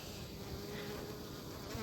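A low, continuous buzz of Apis mellifera drone bees hums close by for a couple of seconds, fairly quiet and unbroken.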